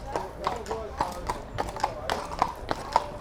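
Horse hooves clip-clop at a steady walking pace at an outdoor bird fair in Nervesa della Battaglia, Italy, regular sharp knocks heard under nearby talk.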